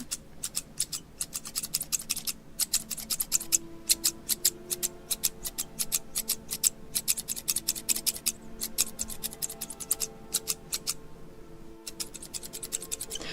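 Rapid, irregular snips of scissors cutting hair, crisp and close, in quick bursts with brief pauses between them.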